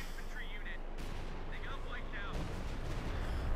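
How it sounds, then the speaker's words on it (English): Artillery barrage in Company of Heroes 2, a World War II strategy game: a dense, continuous wall of low rumbling booms and gunfire, loud and sustained, swelling heavier toward the end. "He's calling in artillery as well."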